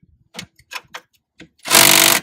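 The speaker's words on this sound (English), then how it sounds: "Go ahead and tighten that down. Tighten that one down real good." Power tool tightening bolts on the rear wheel hub of a 2015 Polaris Ranger Crew 900 utility vehicle: a few short clicks and knocks, then one loud, sustained, buzzing whir lasting about half a second, close by.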